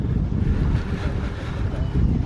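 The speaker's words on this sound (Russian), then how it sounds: "ветер дует" Steady wind buffets the microphone with a dense low rumble throughout, loud and close.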